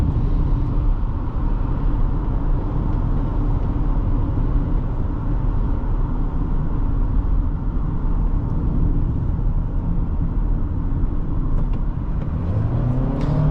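Inside a 2023 Toyota Sienna LE Hybrid on the road, a steady cabin drone of engine and tire roar holds evenly with no voices, rising slightly near the end as it accelerates.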